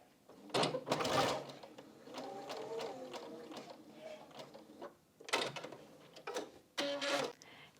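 A sewing machine stitches crazy patchwork pieces for a quilt-as-you-go flower block, a steady mechanical whirring in several bursts with pauses between, fairly close and moderately loud.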